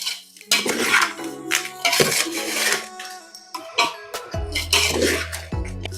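Mustard dal being mixed for mango pickle in a bowl, heard as repeated clinks and scrapes of a utensil against the dish in uneven bursts, close and moderately loud, with no talk.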